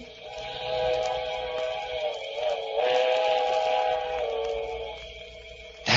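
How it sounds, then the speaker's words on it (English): A train draws closer in the distance on a cold night at a bridge, a radio drama sound effect from 1947: a steady, sustained mechanical drone with a whistle-like tone that swells, holds and eases off. "that was it. The midnight train."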